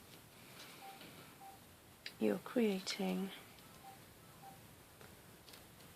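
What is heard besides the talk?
telephone ringing in the background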